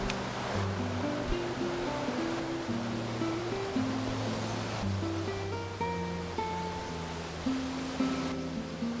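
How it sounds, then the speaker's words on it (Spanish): The Guatapé river flowing, a constant broad rushing of water that holds steady throughout, with low tonal notes, likely music, stepping along underneath. "Este es el río Guatapé."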